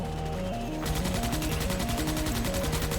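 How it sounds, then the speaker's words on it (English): Rapid automatic gunfire from the Morita MK1 rifle in the Starship Troopers Extermination video game, a steady stream of close, loud shots over a pulsing game soundtrack. "Really not a big fan of the sounds of the weapons, mostly the Merida MK1, which is the most iconic weapon in all of Starship Troopers"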